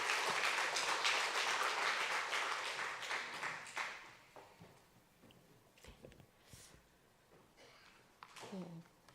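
A church congregation applauds to welcome a deaconess coming forward to give her testimony; the clapping is strong at first, then fades away, leaving faint shuffling and a few distant room sounds.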